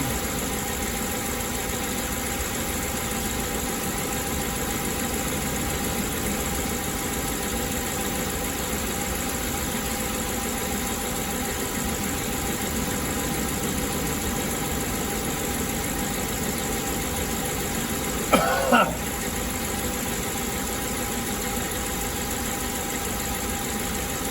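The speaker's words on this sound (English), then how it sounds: "This they say you take 15 minutes, you just let it run for 15 minutes." A van engine idles steadily while warming up from cold, a constant close mechanical drone with a faint vibration and one brief clatter near the end, no talk.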